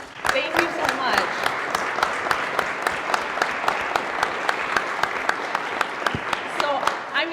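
An audience applauds and cheers for a 10-year-old Girl Scout runner at a Boilermaker Road Race talk, with dense sustained clapping throughout and a few voices shouting over it.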